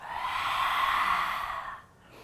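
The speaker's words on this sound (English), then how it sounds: "on the exhale, we reach our tongue out towards the earth, towards the chin" A long cleansing yoga exhale with the tongue reaching out toward the chin: one loud, breathy, airy outbreath lasting under two seconds, close up, then quiet.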